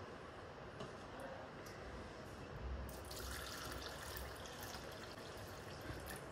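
Water poured a little at a time into flour dough for gujia in a home kitchen, a steady faint splashing trickle that swells slightly partway through, heard alone.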